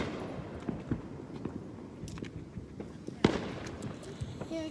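Fourth of July fireworks finale heard from a distance, a dense run of pops and crackles with a few sharper bangs, quiet and scattered, with people talking in the background.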